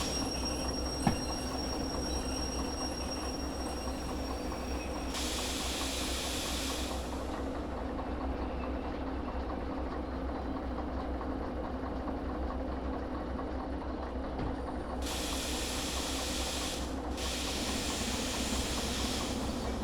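A locomotive backing up in the Derail Valley train game, a steady low rumble and hiss of the engine running throughout, with brief high hissing bursts of steam or air release midway and near the end.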